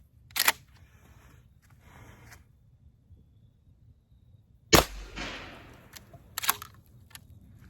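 A shotgun fires Stars and Stripes 00 buckshot shells outdoors, with sharp loud reports at about 0.5, 4.7 and 6.5 seconds. The middle report is followed by a ringing decay, and quieter clatter falls between the shots.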